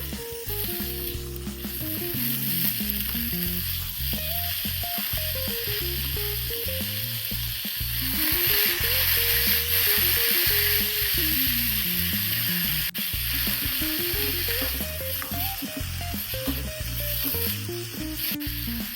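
Red beans frying in hot oil with turmeric powder for a Kerala thoran, giving a steady, close sizzle that runs the whole time alongside occasional stirring scrapes, with no talking.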